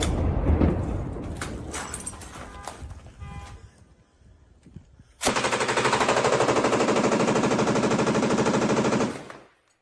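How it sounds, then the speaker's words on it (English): An MG5 machine gun lays down suppressing fire in an urban combat area in Toretsk, a clean, rapid sustained burst of several seconds following scattered distant noise and quieter shots. "the sound of the MG5 is incredibly clean. Like, that's actually a very nice sounding machine gun."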